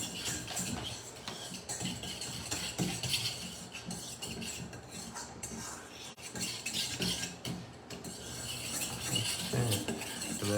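A whisk beating a seasoned mixture with salt and pepper in a bowl, quick repeated clinks and scrapes of metal against the bowl, continuous and close, with no talking.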